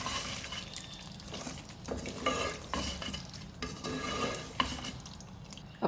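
Veg handi curry being stirred in a pan with garam masala and kasuri methi, a spoon scraping and clinking against the metal in uneven strokes under a soft simmering sizzle, close and fairly quiet.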